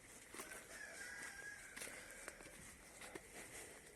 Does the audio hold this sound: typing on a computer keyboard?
no